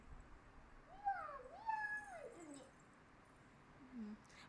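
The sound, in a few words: child imitating a cat's meow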